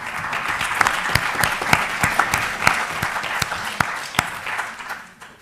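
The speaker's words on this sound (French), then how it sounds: "Donc on peut les applaudir parce qu'ils nous accompagnent." Conference audience applauding at a round-table discussion, a moderate burst of many hands clapping with a few sharper individual claps, fading out near the end.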